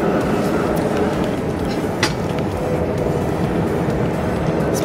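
A passenger train rides toward Brussels-Midi station, filling the carriage with a steady, loud rumble and rolling noise, with a brief clack partway through and no talking.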